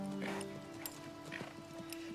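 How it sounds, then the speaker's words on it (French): Horse hooves clip-clopping at close range in an animated scene, several soft irregular thuds over a sustained musical tone. "C'est le cheval dont je rêve."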